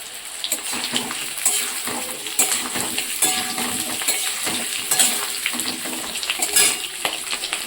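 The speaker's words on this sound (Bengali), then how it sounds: "আমার আলু ভাজা হয়ে গেছে" Potatoes fry in hot oil in a pan for a Bengali egg curry, a loud continuous sizzle broken by stirring scrapes and crackles, close and with no speech.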